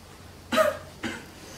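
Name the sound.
girl coughing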